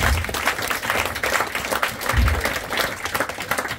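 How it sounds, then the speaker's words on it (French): An audience at a hypnosis show claps in a loud, sustained burst of applause that fills the room with a steady patter and a few deeper thumps. "on va l'applaudir très fort maintenant"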